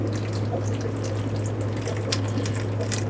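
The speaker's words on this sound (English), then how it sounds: "we're going to pour a lot of it out" Water poured steadily out of a plastic container while setting up for hatching banded gudgeon eggs, a continuous splashing flow with a constant low hum underneath and no talk.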